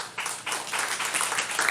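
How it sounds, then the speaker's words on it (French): An audience breaks into a short burst of applause, a steady patter of many hands clapping together. "s'il vous plaît, sur vos applaudissements"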